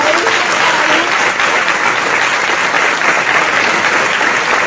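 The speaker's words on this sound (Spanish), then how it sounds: "Vamos a darle un fuerte aplauso." An audience at a business meeting breaks into loud, sustained applause, dense clapping from many hands that holds steady throughout.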